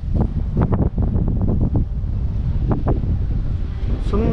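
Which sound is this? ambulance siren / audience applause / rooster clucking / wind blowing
wind blowing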